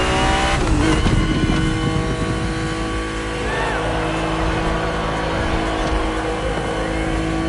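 A BMW race car engine in The Crew Motorfest drones at a steady high rev, loud and continuous, with faint tire squeal over it.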